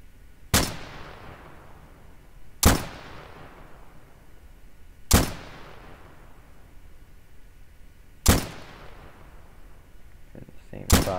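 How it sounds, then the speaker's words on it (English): Rifle shots in a 1944 US military roleplay video game, four sharp loud cracks spaced about two seconds apart, each with a fading echo tail, followed by the start of a fifth. "There goes at least like 7 shots."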